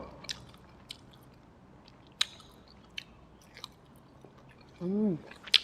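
Close, soft mouth sounds of someone chewing grilled milk-marinated minced pork with sticky rice, a few scattered wet bites and smacks over a quiet background, ending in a brief murmured vocal hum.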